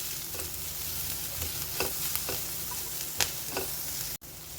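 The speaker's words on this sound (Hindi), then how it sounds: "अब इसमें हम डालेंगे हल्दी और साथ में ही डालेंगे हम नमक और इसे अच्छे से हम मिला लेते हैं" A spoon stirs turmeric and salt into a vada pav potato mixture in a pan, giving soft repeated scraping strokes over a steady low background hiss, with a brief dropout near the end.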